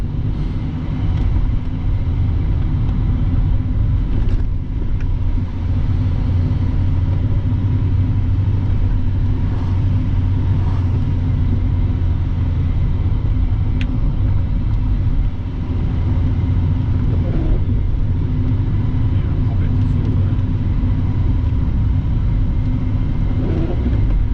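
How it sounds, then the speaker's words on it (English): A car drives steadily along a wet rural road in the rain, with a continuous low engine and road rumble droning throughout, close and loud, with no talking. "smooth application of gas on the wet road"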